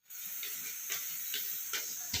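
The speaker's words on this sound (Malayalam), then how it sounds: "അപ്പോൾ ഇതാ നമ്മുടെ വെളുത്തുള്ളി, ഇഞ്ചിയൊക്കെ നന്നായിട്ട് മൂത്ത് വന്നിട്ടുണ്ട്, നല്ല വഴന്ന് വന്നിട്ടുണ്ട്." Garlic and ginger sauté in a pan with a soft, steady sizzling hiss, broken by a few faint stirring clicks, quiet and close.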